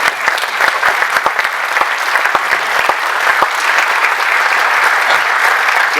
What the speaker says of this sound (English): Give him a round of applause back there.